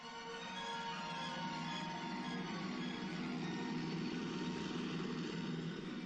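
A steady, loud engine and rotor drone of a helicopter runs unbroken throughout, with no voices.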